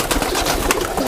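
Teddy pigeons, a fancy breed, cooing in soft, steady throaty pulses over a busy loft background, fairly close and continuous for a brief moment.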